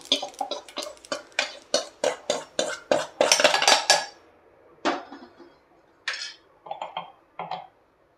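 Roasted coriander seeds are poured into a vessel, giving a run of sharp, rattling clinks and patters in quick succession, then thinning to a few scattered, softer rattles near the end.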